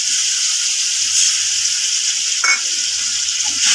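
A spiced mixture stir-fries in a hot pan for a Bengali home-cooked dish, giving a steady, loud sizzle and hiss close up, with a brief scraping stir midway and no voices.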